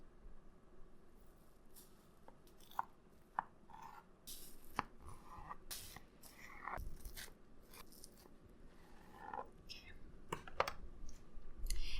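A knife cuts through soft layers of keto low-carb chocolate and vanilla protein cake, splitting each one in half. Quiet, close clicks and soft crunchy cuts come in an irregular series, with occasional sharper taps on the board.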